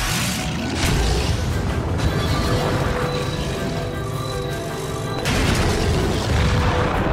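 Explosions and booming blasts from the strategy game Divinity: Dragon Commander fill the scene, a dense rumbling roar with bursts that swell again near the end, with no talk.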